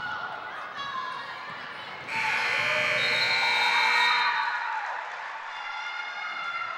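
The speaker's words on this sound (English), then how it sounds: "the final buzzer will sound" A long, loud electronic buzzer blares for a couple of seconds over the hum of the crowd at a girls' high school basketball game.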